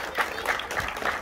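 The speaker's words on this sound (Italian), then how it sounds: "un applauso vivo" Applause from an audience at an autumn cycling event in Lonate Ceppino, a short steady burst of clapping filling the whole moment at moderate level.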